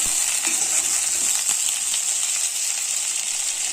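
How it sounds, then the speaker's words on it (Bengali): Potatoes and mixed vegetables fry in a pan, producing a loud, steady, close-up sizzle with faint crackles and no voices. "তারপরে দিয়ে দিলাম আরো সবজিগুলো একটু ভেজে নিই"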